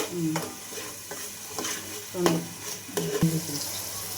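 Onion paste frying in a pan for a fish curry, a steady sizzle broken by several loud scraping stirs of a spoon against the pan, close and clear with no talk.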